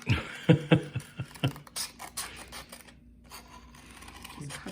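Scissors snip through paper in a quick series of crisp cuts, followed by softer scraping and rustling close by.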